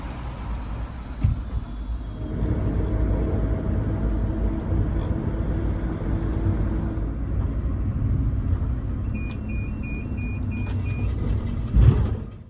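Van-sized city bus driving through Munich streets, a steady engine rumble with road noise heard from inside, a few soft knocks and a short beeping tone near the end.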